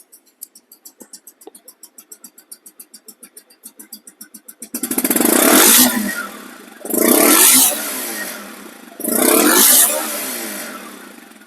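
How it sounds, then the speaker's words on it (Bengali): A nearly new 2024 Bajaj Pulsar DD ABS motorcycle idles with a rapid, even thump, then revs hard three times, each loud surge rising and falling back close by, no talking over it. "সাউন্ড কোয়ালিটি শুনুন গাড়িটার সাউন্ড কোয়ালিটি কেমন দেখেন"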